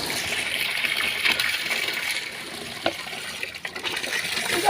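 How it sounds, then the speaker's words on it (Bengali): Water gushes steadily onto garden plants, a continuous close splashing and pouring with small fluctuations throughout. "গাছে জল দিয়েছি।"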